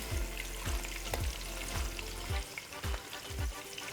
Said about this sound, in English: So we're going to brown each side just lightly